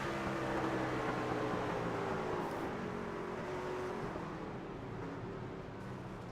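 A racing truck engine in a stock-car video game at Bristol drones steadily, then its tone drops as the driver lifts off the throttle, fairly faint with a smooth, continuous wash.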